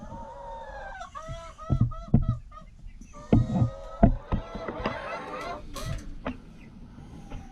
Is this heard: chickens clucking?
yes